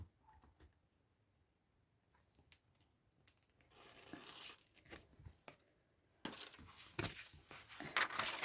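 Paper or vellum is cut for crafting at a desk, quiet scattered snips at first, then a run of close crisp cuts and rustling that grows louder toward the end.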